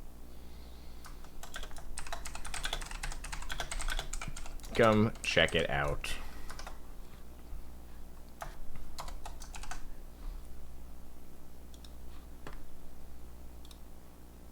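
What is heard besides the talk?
clicky computer keyboard typing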